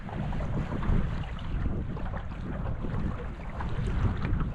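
A fishing boat trolls into Magnolia River, with a steady low motor rumble and water wash blended with gusting wind buffeting the microphone, continuous and moderately loud, with no talking.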